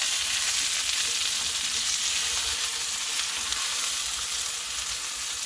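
Mushrooms and tomatoes fry in oil in a pan outdoors at a camp, giving a steady, loud, continuous sizzle with a faint low rumble beneath, unbroken throughout.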